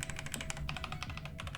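Close, steady typing on an Asus hotswap mechanical keyboard fitted with Shadow keycaps, a quick run of dense, overlapping key clacks with no pauses.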